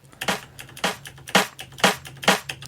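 Single snare drum sample in Ableton hit repeatedly in a steady rhythm, six or so sharp, bright, noisy cracks, close and dry with nothing else sounding.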